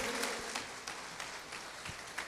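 Church congregation applauding during a sermon, with a soft, steady wash of clapping heard from some distance and a few sharper claps standing out.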